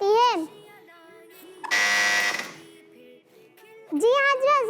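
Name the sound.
quiz buzzer being pressed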